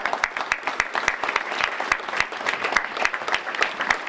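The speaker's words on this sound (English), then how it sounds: "you're going to give yourselves a round of applause" Sustained audience applause at an awards event honouring Black community leaders in Silicon Valley, with many hands clapping densely and evenly throughout, steady and fairly loud, with no voices above it.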